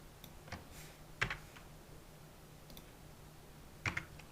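A few sparse computer keyboard key presses, two sharper clicks standing out among faint taps, recorded close in a quiet room during 3D visualization modeling work.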